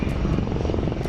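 An HAL LCH light combat helicopter flying at an air show, its rotor thumping in a loud, steady pulsing drone, with no talk over it.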